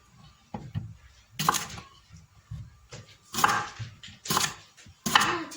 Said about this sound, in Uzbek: Bodringlarni to'g'rab qo'yamiz.